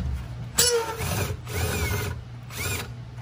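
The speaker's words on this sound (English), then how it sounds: "First, with a 10 millimeter socket, you remove this bolt here." Ratcheting 10 mm socket wrench loosening a nut on a Toyota Prius 12 V battery, heard as three short, close bursts of clicking ratchet noise with brief pauses between them.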